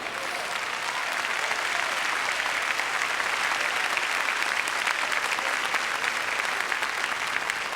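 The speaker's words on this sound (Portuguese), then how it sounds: "Clap your hands if you are a kingdom citizen." Church congregation applauds at a sermon, loud continuous clapping sustained evenly throughout without a break.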